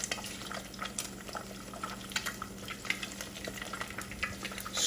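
Bacon fried rice frying in a pan, a close, steady hiss and crackle with light scraping and stirring noises running throughout, no voices.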